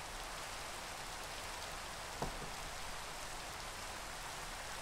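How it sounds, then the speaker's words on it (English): Rain falling in the Minecraft video game, a soft, even hiss of steady rainfall with one brief faint knock midway, no voices. "Goodbye, rain."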